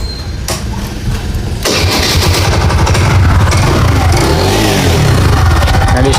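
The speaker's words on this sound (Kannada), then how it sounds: "ಗಾಡಿ ಸ್ಟಾರ್ಟ್ ಆಗ್ತೈತೆ" A TVS Jupiter scooter, whose belt had snapped, starts up with a quick crank and catch, then idles and revs loudly up close in a repair shop setting.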